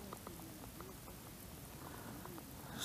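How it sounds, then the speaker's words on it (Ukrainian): Light rain pattering on a frozen lake surface during ice fishing in late winter, a steady soft patter of drops with faint scattered low thuds throughout, no talk. "той дощик мені не подобається, що падає"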